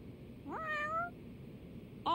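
A cat meows in the video game Lost Judgment, one clear rising-and-falling call followed by the start of a second, with a faint background hum.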